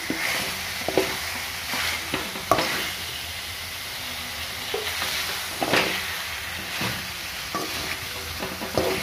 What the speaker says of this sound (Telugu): నీట్గా కడిగిన తర్వాత నూనెలో ఇలా మంచిగా ఫ్రై చేసుకోవాలి.